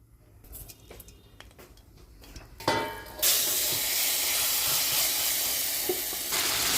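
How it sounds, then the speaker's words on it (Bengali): Nigella seeds hit hot oil in a wok, first faint clinks and rustles, then a sudden loud sizzling hiss that swells and holds steady. "এবার কড়াইতে একটু তেল দিয়ে কালো জিরে ফোড়ন দেবো।"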